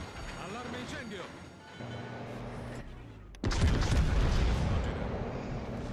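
Secondary battery guns on the battleship Minnesota fire in World of Warships: Legends, a loud broadband burst of naval gunfire erupting midway and sustained over engine rumble, with a voice talking beforehand.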